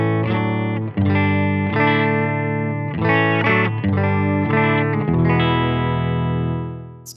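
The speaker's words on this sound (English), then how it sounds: "Silktone amp sounds like this." A Scythe Guitars OH19 electric guitar with single-coil pickups plays through a Silktone amp, with crisp, slightly driven chords strummed in rhythmic stabs that end on a final chord ringing out and fading.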